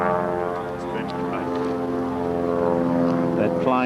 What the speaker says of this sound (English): That plane going over